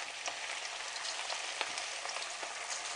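Mutton kola urundai, spiced minced-mutton balls, frying in hot oil: a steady dense hiss of sizzling with small crackling pops scattered throughout, close and fairly loud, no voices.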